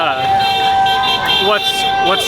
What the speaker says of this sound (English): I'm waiting for the honking to calm down a little bit.